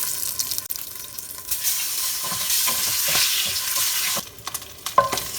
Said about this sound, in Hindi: अभी ये अंडा फ्राई करना है।